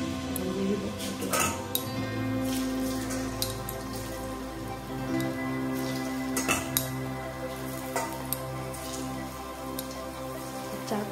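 Raw banana kofta balls fry in hot oil, giving a soft, spattering crackle that sounds like light rain, with scattered clinks of a metal utensil against the pan.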